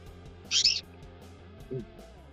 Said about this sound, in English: The birds keep getting loud off and on.